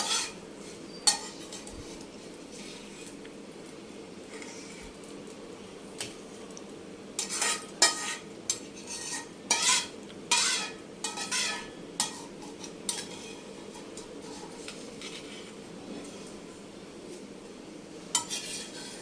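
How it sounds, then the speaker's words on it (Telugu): Ingredients cook in a pan over a low flame under a soft, even background hiss, with clusters of metallic scraping and clinking from a spoon stirring the pan. "ఇవన్నీ కూడా సిమ్లో పెట్టుకునే వేయించుకోవాలి దోరగా వేయించుకోవాలి"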